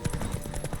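A horse gallops in The Witcher 3, its hooves drumming in a quick, rhythmic clip-clop over a short burst, fairly close and steady.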